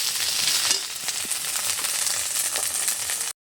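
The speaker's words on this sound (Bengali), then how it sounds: "আদা রসুন বাটাটা দিয়ে আমি একটু নেড়ে চেড়ে নিচ্ছি" Ginger garlic paste frying with lightly browned onions in a pan, a loud continuous close sizzle with stirring scrapes running through, cutting off abruptly at the end.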